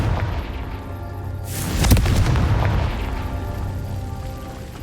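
A Confringo spell blast in the video game Hogwarts Legacy explodes with a single loud, close boom that swells out of low rumbling and then decays slowly.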